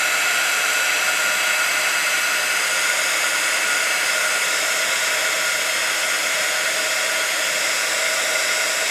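A heat tool blows steadily for about nine seconds, melting embossing powder on a handmade card, a constant loud hissing whoosh with no pauses and no talking.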